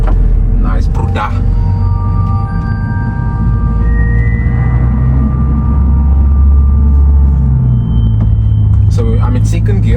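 A Mercedes CLA 55 is driven on a mountain road, its engine sounding a loud, continuous close rumble with rising and falling tones through the downshifts, while a voice speaks briefly over it.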